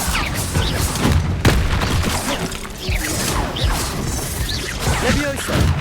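Bombarda spell explosions in the video game Hogwarts Legacy: loud, dense blasts, crashes and whooshes run continuously with repeated booming impacts throughout, a busy battle mix with no pause.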